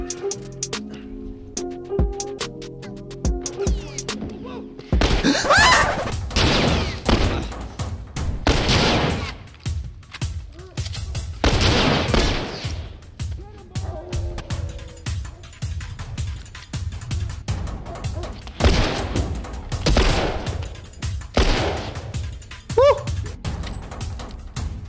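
Shotgun blasts and gunfire from The Last of Us Part II, a series of loud broadband bursts spaced a few seconds apart over game background noise, with a voice talking at times.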